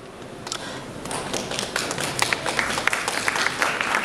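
An audience at a women in STEM Africa summit breaks into scattered applause that thickens into steady, moderately loud clapping.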